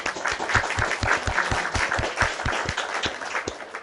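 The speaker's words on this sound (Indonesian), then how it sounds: "Tepuk tangan dulu" A studio audience at a night taping of a talk show breaks into applause, steady dense clapping from many hands that carries on for several seconds, loud and close, with no voices over it.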